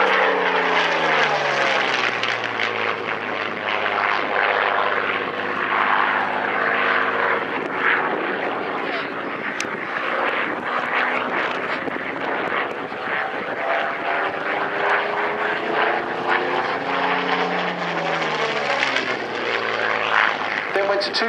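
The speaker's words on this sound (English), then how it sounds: "Coming in from the left, we have MH434, one of the most famous Spitfires in the world." A Spitfire fighter, MH434, flies past at an airshow with a loud, sustained propeller-engine roar whose pitch rises and falls as it crosses, steady and close throughout.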